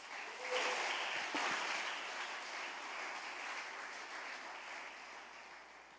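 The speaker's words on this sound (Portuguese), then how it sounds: "Você pode aplaudir ao Senhor por isso." A church congregation breaks into sustained applause during a sermon, a dense, steady wash of many hands clapping that swells quickly and holds for several seconds before slowly easing.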